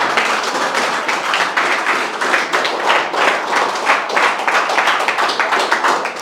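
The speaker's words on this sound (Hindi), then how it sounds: "तालियों में कंजूसी नहीं होनी चाहिए।" Audience at an event honouring a young army recruit clapping steadily, many hands in a dense, even patter that carries on without pause.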